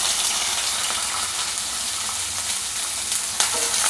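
Onion, green chillies and curry leaves fry in hot oil for semiya upma, a loud, steady sizzle with faint stirring scrapes throughout.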